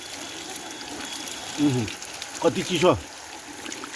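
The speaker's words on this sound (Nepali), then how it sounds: "खोलाको पानी ल हेर कलकल" Cold mountain stream water rushes steadily in a continuous, fairly quiet wash, with a person speaking briefly over it partway through.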